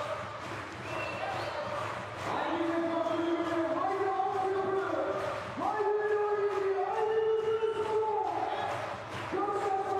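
Loud, relentless arena crowd at a basketball game late in a close contest, a dense roar with sustained chanting and horn-like tones rising and surging in waves throughout.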